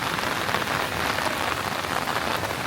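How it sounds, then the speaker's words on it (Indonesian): Heavy rain pours steadily in Singapore during a commute to the office, a dense, close hiss of drops hitting surfaces with no voices. "hujannya deras banget"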